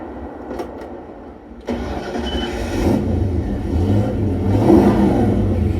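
The engine of a 1966 Ford Mustang Fastback cranks briefly, then fires and settles into a loud, steady rumbling idle close by.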